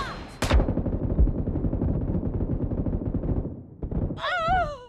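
Automatic gunfire in PUBG Mobile rattles in rapid close bursts for several seconds, loud and dense, then breaks off before a short electronic warbling tone.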